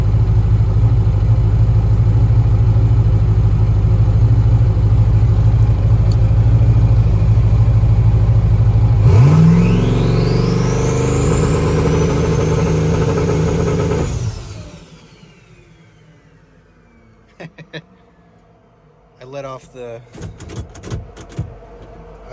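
A turbocharged Foxbody Mustang engine idles loudly and steadily during a trans brake test, then climbs sharply in a rising whine, drops away and dies. Near silence follows, then a few scattered clicks and clunks.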